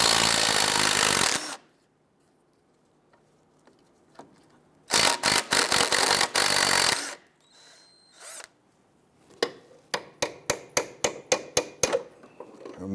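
Removing the 13mm nuts from the lower shock mounting studs of a 1999-2004 Jeep Grand Cherokee: two loud bursts of a power tool spinning, separated by silence, then a quick series of sharp metallic clicks and taps.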